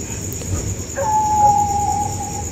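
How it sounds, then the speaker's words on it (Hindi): Street dog at night, a single drawn-out howl or whine rising after a quiet moment and holding for about a second over faint background hum, with no voices. "इस साइड से कुत्तों के भौंकने की भी आवाज़ आ रही है।"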